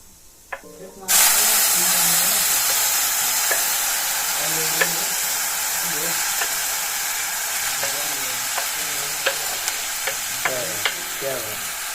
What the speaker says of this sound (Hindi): मैं प्याज डालूंगा।